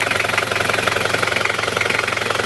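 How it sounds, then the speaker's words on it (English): A steady engine idles close by, its exhaust pipe putting out a rapid, even pulsing throb that never changes pace. "Here we have the exhaust pipe."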